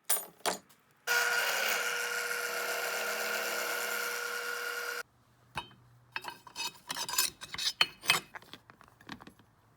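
Steel car frame on an LS-swapped turbo 2003 Cobra build gets its bolt hole enlarged, with a steady grinding power-tool whir for about four seconds, then clinks, taps and small metallic rattles.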